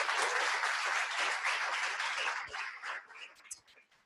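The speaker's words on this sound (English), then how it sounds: "round of applause." A live event crowd in Melbourne breaks into a round of applause for a speaker, strong continuous clapping that tapers off into a few scattered claps.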